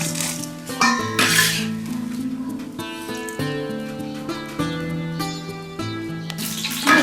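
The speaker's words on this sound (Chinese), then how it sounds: "茄子煎好了，咱给它盛出来。" Fried eggplant is scraped and served from a pan, giving clinks and scrapes of a utensil on metal, close and fairly loud. Tonal music plays underneath throughout.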